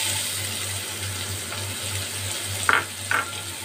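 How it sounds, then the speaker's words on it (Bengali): Chopped onions frying in oil in a pan for potol korma, a soft continuous sizzle over a low hum, with two sharp spatula clinks near the end. "পেঁয়াজগুলো আমার এইভাবে লাল করে ভাজা হয়ে গেছে"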